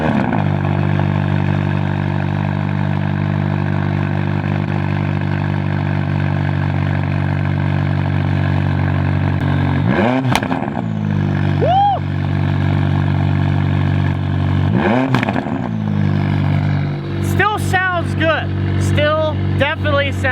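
A McLaren 570S with a sports exhaust idles with a steady, loud, droning engine note, then blips the throttle in several short revs that rise and fall before settling back.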